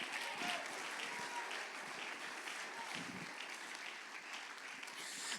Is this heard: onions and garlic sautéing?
no